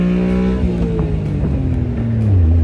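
The small engine of a Honda Beat kei car revs hard, its pitch rising and then dropping through a fumbled gear change, loud and close from inside the car.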